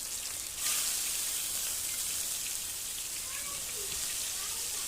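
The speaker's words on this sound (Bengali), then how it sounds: "তেল গরম হয়ে গেছে, এবার মাছগুলো আমি দিয়ে দেব।" Fish rubbed with salt, turmeric and chili powder frying in hot oil in a pan: a loud, steady, hissing sizzle that swells as the fish goes in and continues evenly throughout.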